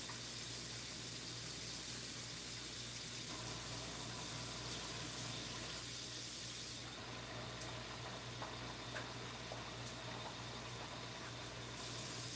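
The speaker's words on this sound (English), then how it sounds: "This will take about 3 rinses before the water is clear." Water runs and splashes softly over dal lentils being rinsed in a kitchen, a quiet, continuous trickle with slight shifts in flow and no talking.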